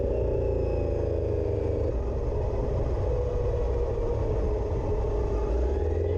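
A 2021 Honda Africa Twin 1100 motorcycle accelerating hard, its engine a loud, close, continuous rumble whose note climbs steadily as it pulls, with no talking over it.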